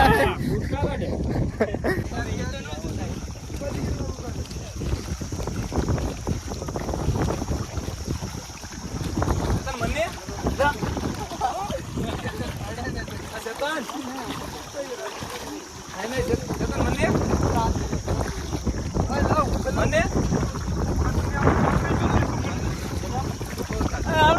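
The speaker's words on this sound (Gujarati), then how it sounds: "હોડી પણ એટલી હલે છે" A rowboat rocks on the water near Shri Ratneshwar Mahadev temple at Dharabandar, with steady wind buffeting the microphone and occasional splashes beneath near-constant talking.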